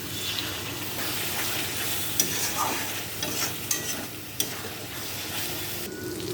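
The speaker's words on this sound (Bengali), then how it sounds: "আরও ভালো করে কষাতে থাকবো, সব কিছু মশলা দিয়ে কষাবো ভালো করে" Spices with turmeric and chilli powder sauté in a pan with a steady broad sizzle, broken by a few sharp scrapes of a spoon stirring, close and alone with no talk.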